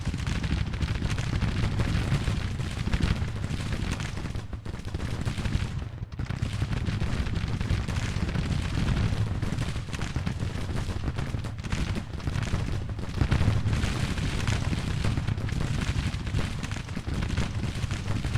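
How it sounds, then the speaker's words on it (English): Cannon fire in the video game Grand Tactician The Civil War: booming artillery shots and scattered gunfire thud irregularly within a continuous, dense rumble of battle noise. "one of the guns is firing"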